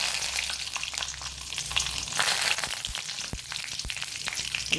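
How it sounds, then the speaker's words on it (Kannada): Mustard seeds and curry leaves fry in hot oil for a Udupi chutney, giving a steady, dense sizzle close up with sharp little pops and crackles scattered throughout. "ಎಣ್ಣೆ ಬಿಸಿಯಾಗುವಾಗ ನಾವು ಸಾಸಿವೆ ಹಾಕ್ಕೊಳ್ತಿದ್ದೇನೆ. ಸಾಸಿವೆ ಒಟ್ಟಿಗೆ ಸ್ವಲ್ಪ ಕರಿ ಲೀವ್ಸು"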